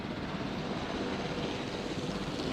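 Helicopter flying in the dinosaur park video game Jurassic World Evolution, a constant loud engine and rotor drone that stays level throughout, with no speech over it.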